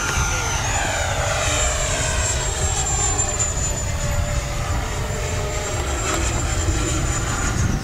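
FMS Hawk 80mm RC jet flying overhead, a steady loud turbine-like whine with a high tone sliding slightly in pitch, continuous throughout over broad roaring rumble.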